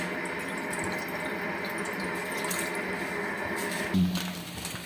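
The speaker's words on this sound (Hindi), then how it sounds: "सबसे पहले इसमें हम पानी डालेंगे।" Water pours into a pan for Maggi noodles with a steady, close splashing flow that swells briefly near the end; there is no talk.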